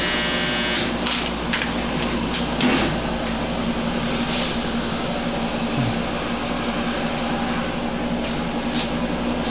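A Heat Seal HS 115 shrink wrap machine runs steadily with a package passing through, a constant mechanical hum and whir with faint clicks and knocks throughout.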